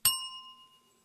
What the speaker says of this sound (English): Bring up that punt bell.